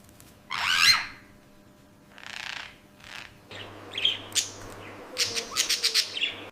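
A pet parrot calls in a string of bright chirps and squawks. Several separate bursts come loud and close, then a quicker run of short calls toward the end, with no talking.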